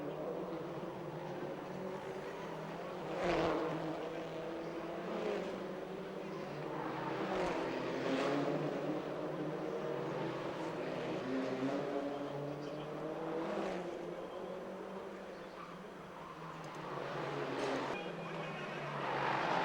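Peugeot RCZ Cup race cars at the Pau Grand Prix street circuit, engines droning and revving through a corner, with repeated passing whooshes rising over a steady loud engine bed; a commentator talks throughout.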